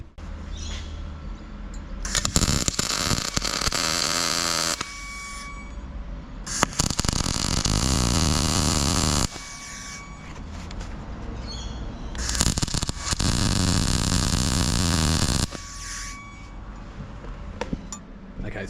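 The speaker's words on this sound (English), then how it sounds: "Let's weld it." MIG welding a round tube onto square steel tube: several long bursts of bright crackling buzz, each lasting a few seconds, separated by short pauses.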